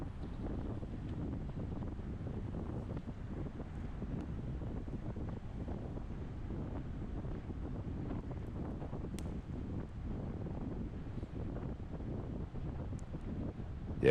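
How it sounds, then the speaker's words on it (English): Wind roars steadily across the microphone while riding a bicycle at about 20 miles per hour in a senior men's road race stage, a constant low buffeting rush with no talking. "I'm going to be kind of stuck out here in the wind."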